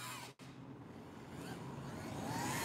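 Go-kart engine at full throttle in a post-apocalyptic video game, a continuous buzzing drone that cuts out briefly near the start, then holds and slowly swells louder.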